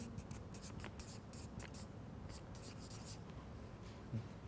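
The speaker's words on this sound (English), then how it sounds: "I'm probably going to do a lot of writing" A pen scratches across paper in short, faint strokes with brief pauses between them, heard close up in a quiet room with no talking.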